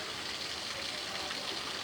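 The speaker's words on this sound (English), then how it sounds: "Our gutter's currently overflowing." Rainwater spills over an overflowing house gutter during a heavy downpour in Portsmouth, Hampshire, making a steady, dense rushing gush that holds at the same level throughout, with no voices.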